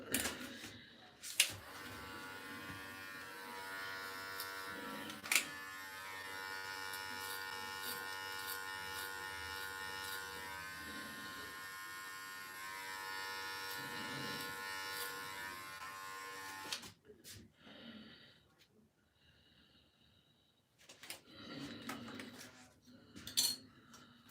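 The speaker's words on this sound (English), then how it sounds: "Babyliss skeleton trimmers, and I switch between the FX, the clipper, the Stay Golds, and the Magic Clips." Babyliss skeleton trimmers and hair clippers during a self haircut, a continuous close electric buzz with small clicks and knocks that stops abruptly, followed by quieter handling sounds and brief bursts of buzzing.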